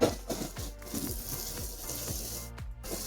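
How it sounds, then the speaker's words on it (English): Cabbage with caraway seeds is stirred in a cooking pot, giving a run of close, irregular clinks and scrapes from the utensil over a soft, steady sizzling simmer. "I'm gonna give this a stir just to make sure it's cooking evenly here."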